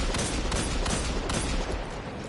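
Rasputin hand cannon firing in Destiny 2, a burst of loud, rapid gunshots with sharp repeated cracks over a dense, continuous roar of combat noise.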